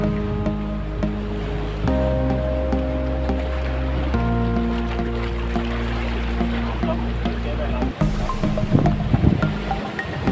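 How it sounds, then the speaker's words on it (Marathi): Waves roll and wash in steadily onto a black-rock shore under a sustained musical drone, with a heavier surge of water breaking near the end. "ही लाट बघा केवढी मोठ्याने येते."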